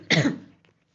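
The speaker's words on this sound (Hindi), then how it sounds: "सॉरी फ्रेंड्स, मुझे खांसी आ गई थी।" A single close, sharp cough from a man, a brief burst that trails off quickly into silence.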